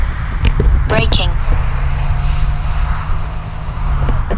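A Freewing Vulcan 6S RC sport jet lands with a steady high ducted-fan whine that slowly fades. A voice speaks over the opening moments.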